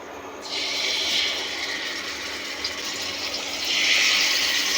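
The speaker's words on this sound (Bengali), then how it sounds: "দেখো এই যে ম্যারিনেট করে রেখেছি, এখানে তেলে ভাজবো।" Marinated chicken leg pieces drop into hot oil for chicken chaap, setting off a loud, steady frying hiss. It holds for several seconds and swells again near the end, with no talking.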